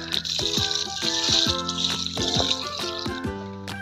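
Water is poured onto soya pulp in a container for yeast fermentation, a close splashing gush with gurgling, bubbling drops throughout.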